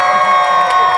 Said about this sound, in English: they'll clap louder if you put your foot down.